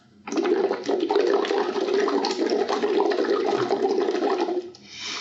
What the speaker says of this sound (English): I'm going to start by just blowing a steady stream of bubbles